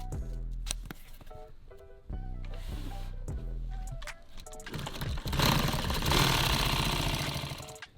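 A sewing machine stitches Velcro onto a nylon tactical bag in rapid mechanical bursts, stopping and restarting several times before a louder, more continuous run near the end.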